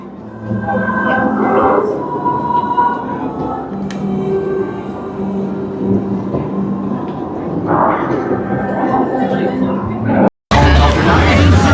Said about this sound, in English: The train's going by the Peace on Earth sign as we speak.